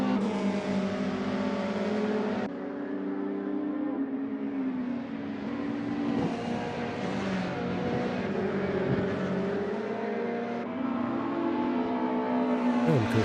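Race cars in a sim racing touring car series bunch up and pass under braking, their engines droning loud and close with revs rising and falling, and no voices over them.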